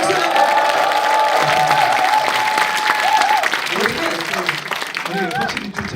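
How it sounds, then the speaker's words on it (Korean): A live audience at a talk-show event in Yongin breaks into sustained clapping and cheering that fills the room, while a voice speaks over the crowd. "박수."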